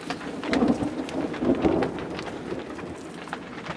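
A thunderstorm over a Nepali village brings steady rain with deep thunder rumbling strongly early on, then easing back to the patter of rain.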